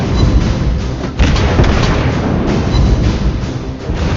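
Warship main guns firing in the World of Warships game, a loud, continuous rumbling boom of heavy gunfire lasting several seconds, with no talking.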